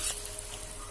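Meat dropped into hot oil seasoned with turmeric crackles in a brief, dense sizzle, close and steady, ending in a sharp click.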